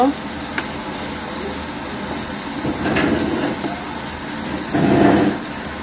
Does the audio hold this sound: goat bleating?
no